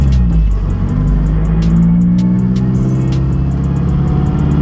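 A Mazdaspeed 3 fitted with a BNR S5 turbo, heard from inside while driving: a loud, steady engine drone fills the cabin alongside sharp, repeated interior rattles and clicks, with no talking.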